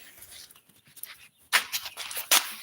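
A neighbor's dog on a gym floor gives a few small whimpers and squeaks, close by, with brief scuffling and louder sharp sounds in the second half.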